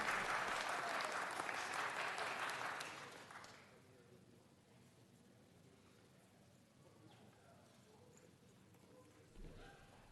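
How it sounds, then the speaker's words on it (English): A city council meeting crowd gives a round of applause, loud and dense for about three seconds before cutting off, leaving a quiet room with faint murmur and a small bump of noise near the end. "Let's give him one more round of applause."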